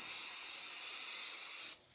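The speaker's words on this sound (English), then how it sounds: "Okay, shake the spray," An aerosol spray can releases a steady, loud, close hiss for nearly two seconds before cutting off abruptly, with no talking.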